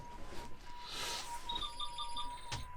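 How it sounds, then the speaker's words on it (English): A series of short electronic beeps from a ham radio JS8 call program repeats in a quick, evenly spaced pattern, faint over a steady background hum aboard a sailing boat. "that beep, beep, beep you hear there is the ham radio JS8 call program"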